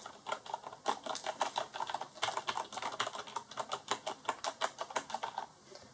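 Rapid mechanical key clicks on a Corsair Strafe RGB keyboard, a steady run of sharp, close taps with occasional heavier strokes such as the spacebar, continuing for several seconds with no voices.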